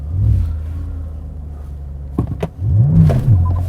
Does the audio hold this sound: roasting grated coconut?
no